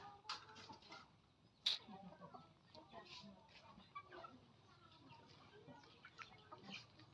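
Home-raised chickens cluck and call around a rural house, scattered short clucks, one sharper call standing out, with people talking throughout.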